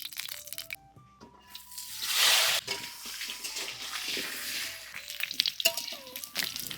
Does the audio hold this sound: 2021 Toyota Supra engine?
no